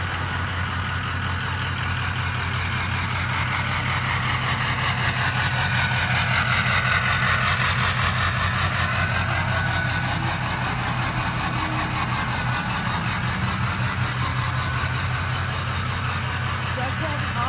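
A 2004 Ford F350 Super Duty with a 6.0-litre V8 turbo diesel idles nearby, a steady low rumble with a faint whistle above it, continuous and even throughout.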